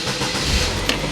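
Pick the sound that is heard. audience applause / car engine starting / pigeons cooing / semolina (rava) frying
car engine starting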